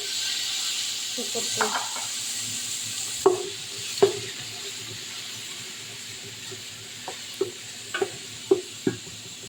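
Onions sizzling in hot oil in a pan, a soft steady frying hiss with scattered clicks and taps of a spoon stirring, close and moderately quiet, no talking.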